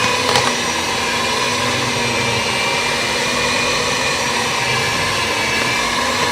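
Electric mixer running at its lowest speed while making Surabaya layer cake batter, a continuous steady motor whir heard close and loud throughout, with no talk.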